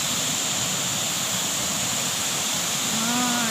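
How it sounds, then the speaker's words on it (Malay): A waterfall at the Sungai 2 Karak picnic spot pours in a steady, broad roar, continuous and fairly loud throughout the short stretch, with no one speaking. "Tu dia air terjun dia."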